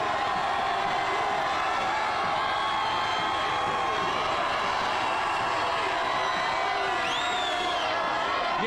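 A large outdoor crowd of Philadelphia Eagles fans celebrates a Super Bowl win at Frankford and Cottman, a dense, sustained roar of distant cheering and shouting with a few rising whoops.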